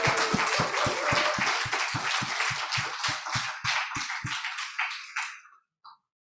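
Conference audience applauds the organizing team, a full burst of clapping with a strong rhythmic unison beat that thins out and stops abruptly, followed by a brief faint knock.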